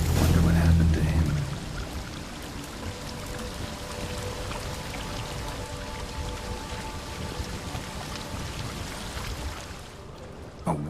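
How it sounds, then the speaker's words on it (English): A waterfall flowing upwards in The Witcher 3: Blood and Wine gives off a steady, dense rush of water that stays even throughout, with a brief low rumble at the very start. "A waterfall flowing upwards?"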